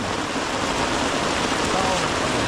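Rain falls steadily in a forest, a dense, even hiss of drops on leaves and ground, close and unbroken throughout.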